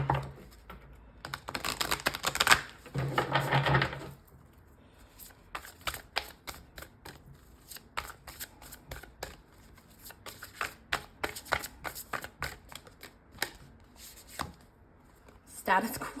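Quantum Oracle deck cards being shuffled and handled, a loud riffling burst early on followed by a long run of soft, irregular card flicks and taps, with a brief voice near the start.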